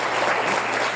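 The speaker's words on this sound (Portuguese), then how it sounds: "aplaudindo ao Senhor" A church congregation applauds at a New Year's Eve service, producing dense, continuous clapping from many hands that fills the whole moment with no pause.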